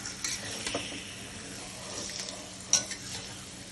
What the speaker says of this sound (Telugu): ఇది ఆయిల్లో మంచిగా ఫ్రై కావాలి.